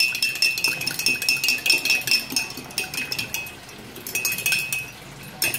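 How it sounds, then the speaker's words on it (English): Juice Plus booster powder being whisked into water in a wet glass gives off quick, rhythmic clinking and scraping, steady and close, with a few brief pauses and no talk. "Give it a bit more of a whisk."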